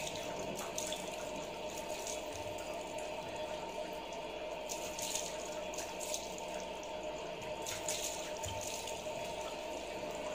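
Water runs from a tap while someone washes their face, a soft, steady faucet stream with faint splashes and drips throughout, fairly quiet and without talking.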